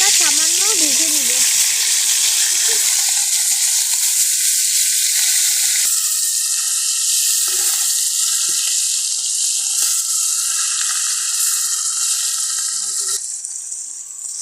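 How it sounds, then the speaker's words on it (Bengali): Hilsa fish fry in hot soybean oil, a loud hissing sizzle that fills the whole stretch and eases slightly toward the end, with a faint tonal whine in the background. "এই যে আমাদের তেলটা গরম হয়ে গেছে, এবার এটা আমরা হালকা সামান্য ভেজে নিব"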